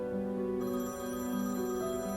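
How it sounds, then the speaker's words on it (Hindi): A telephone rings indoors with a steady, sustained electronic ringtone that holds for the whole moment, close and clear with no voices over it. "मेरा फोन बज रहा है।"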